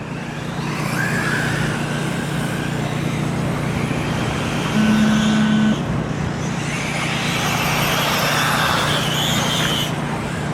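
Race cars roll out for the start of a Toledo race, a loud continuous engine roar close by that swells briefly in the middle, with no talk over it.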